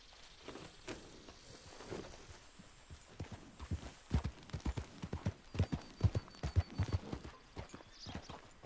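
A horse in the Red Dead video game walks with clip-clopping hooves, faint at first, then growing into a steady, fairly loud run of rhythmic hoof strikes over a quiet background.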